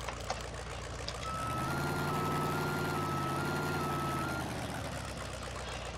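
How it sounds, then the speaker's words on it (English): Steady repeating reversing beeper on an old fire truck in Farming Simulator 17, a sustained electronic tone over a low engine idle, fairly loud and continuous through most of the stretch. "Our reverse beeper is going to be the same as the Ford"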